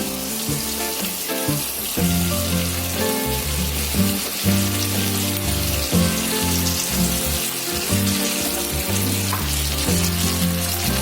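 Pasta pieces fry in well-heated oil, added in two batches. The result is a loud, steady, continuous sizzle with bubbling crackle throughout and no talking.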